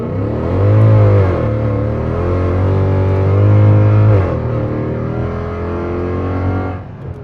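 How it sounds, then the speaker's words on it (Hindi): A 2009 Mercedes E63 AMG (W211) pulls hard under acceleration, its engine roaring loud and close with rising then steady tones, a brief lift near the middle and a drop-off at the end. "अब इसका हम आपको थोड़ा सा एक्सेलरेशन पुल देते हैं।"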